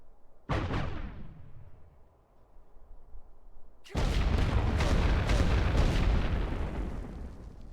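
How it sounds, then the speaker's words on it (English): Airburst artillery shells from the World War I strategy game The Great War: Western Front: one sharp blast with a long fading tail, then a few seconds later a sustained, heavy roar of overlapping explosions and rumbling bursts. "it's literally an artillery shell that explodes in the air above its target, just throwing shrapnel down into it"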